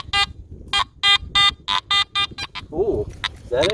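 A metal detector sounds a run of about ten sharp, evenly spaced electronic beeps, close and clear, before a voice briefly speaks near the end.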